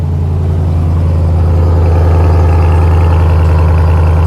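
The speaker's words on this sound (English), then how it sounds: "we're gonna start it up and hear that V8" A 2021 RAM TRX pickup's V8 idling up close, a loud, deep, steady rumble with a throbbing low-end pulse and no voices.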